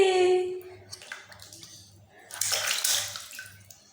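A small child splashing bathwater, with bursts of slapping and sloshing water, the loudest near the end, while an adult's voice and a voice are heard between the splashes.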